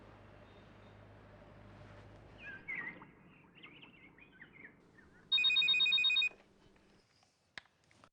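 A telephone rings once in a quiet room, a short bright electronic trill lasting about a second, fairly loud against faint background noise.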